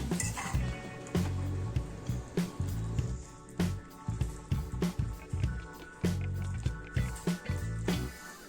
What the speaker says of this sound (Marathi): त्यातलं पाणी सगळं निथळून आपल्याला एका प्लेटमध्ये त्या सगळ्या नूडल्स काढून घ्यायच्या आहेत